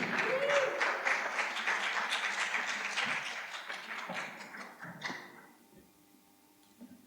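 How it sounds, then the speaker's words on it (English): An audience at a conference session on alternative protein applauds a speaker coming up to talk, clapping strongly at first and then thinning out and fading to near quiet by the end. "give him a big round of applause"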